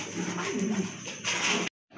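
Several pigeons at a market stall cooing close by in soft repeated throaty calls, ending abruptly in brief silence.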